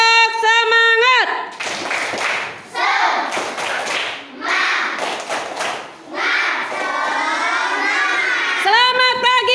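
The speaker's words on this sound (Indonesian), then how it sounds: "Tepuk semangat." Schoolchildren doing an Indonesian spirit clap, a loud group of young voices chanting together with bursts of rhythmic clapping and thumps, framed by an adult voice at the start and end.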